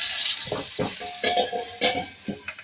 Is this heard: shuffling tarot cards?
no